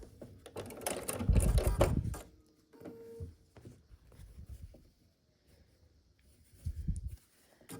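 A Bernina sewing machine with a 1/4 inch foot sews quilt rows together, giving short bursts of fast mechanical stitching that stop and restart, close and moderately quiet.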